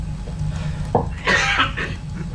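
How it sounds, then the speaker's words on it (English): A rough cough breaks through a steady low hum, followed by a longer raspy burst; no speech. "Sorry, I'm suffering from a cough, so my apologies."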